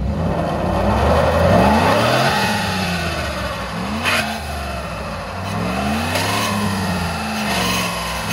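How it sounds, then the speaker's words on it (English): A Cadillac engine revs hard during a one-wheel-peel burnout, its loud, sustained roar rising and falling in pitch through repeated throttle swells, close and dominant throughout. "Just doing the one wheel peel."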